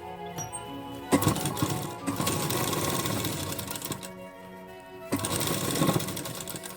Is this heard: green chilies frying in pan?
no